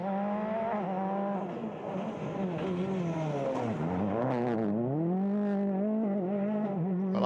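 Super 2000 Ford Fiesta rally car on a stage, engine revving hard with rising and falling pitch through gear changes and throttle lifts, loud and close throughout.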